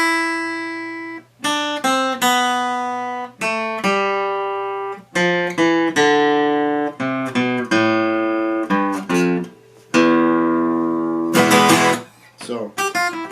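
Guitar picked slowly one string at a time in a Spanish fingerpicking style, single clear notes ringing out in a descending pattern with short pauses, ending in a quick strummed flourish, no talk.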